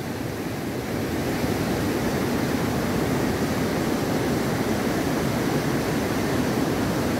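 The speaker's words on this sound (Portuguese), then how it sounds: "cheguei bem em frente à corredeira principal." River rapids on the Itajaí Mirim at Botuverá rush over rocks in a steady, dense roar of white water, close and loud, with constant broadband churning and no break for the whole stretch.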